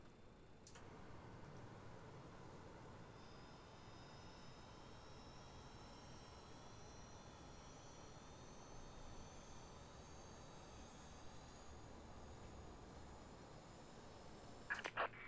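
A BAe146 jet engine spools up in Microsoft Flight Simulator 2024, a faint rising whine climbing steadily over a constant low roar, with no talk.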